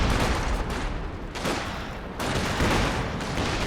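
Dense, continuous artillery barrage and gunfire from Company of Heroes 2 in a 2v2 match, a steady rolling roar of explosions and shots with brief dips, loud and unbroken throughout.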